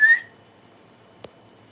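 A whistle built into the top clip of hiking gear blown once loudly and shrilly, then a single faint click later in otherwise quiet surroundings.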